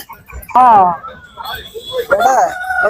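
A rooster crows nearby in a loud, rising call at a Monday market in Kunnathur, Tirupur, followed by a second crow-like cry, with people talking around it.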